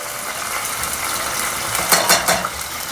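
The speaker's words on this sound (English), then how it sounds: "with a spoon, just pass the sauce through the colander" A spoon scraping and clinking against a metal colander while pressing red pozole sauce through it, a few sharp metallic scrapes near the end over a steady background hum.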